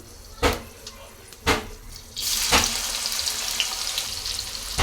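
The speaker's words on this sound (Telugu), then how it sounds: "నేనైతే ముందుగా ఉల్లిపాయలు వేసుకున్నానండి గోల్డెన్ కలర్ వచ్చేంత వరకు ఫ్రై చేసుకున్నానండి" Onions fry in hot oil for a Telugu-style chicken curry, with ginger-garlic paste and green chilies in the pan. A few sharp clatters come first, then a steady, close sizzle takes over and holds.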